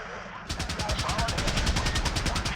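Rapid automatic gunfire from the Apache: Air Assault video game, a loud, steady stream of evenly spaced shots that breaks in suddenly and keeps hammering without pause, with a low rumble beneath.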